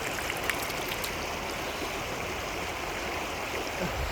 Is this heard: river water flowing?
yes